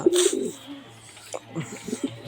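Fresh Kaldum pigeons coo in short bursts close by, a brief call at the start and softer murmurs after, with a voice faintly present.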